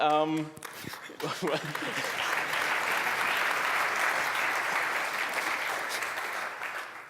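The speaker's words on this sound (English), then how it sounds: "I don't know why you're clapping" A room of people at a student project client presentation bursts into sustained clapping after a brief stretch of talk, the applause holding steady and fairly close for several seconds before tapering.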